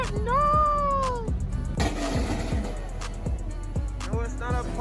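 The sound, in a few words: car engine revving at a car meet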